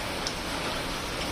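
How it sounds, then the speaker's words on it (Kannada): Heavy morning rain falling steadily, a dense continuous hiss with faint scattered drip ticks and no voices. "ಬಿಡ್ತಾನೆ ಇಲ್ಲ, ಅಷ್ಟು ಮಳೆ."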